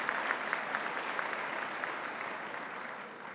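Sustained audience applause at an honorary doctorate ceremony at the University of Pretoria, a steady dense patter of clapping from a large crowd that holds evenly and fades slightly toward the end.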